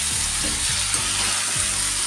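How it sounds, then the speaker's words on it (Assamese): Continuous loud sizzling of mutton frying in a hot pan, with soft scraping thumps of stirring every half second or so. "এইখিনি মই এতিয়া ভাজি লৈছোঁ।"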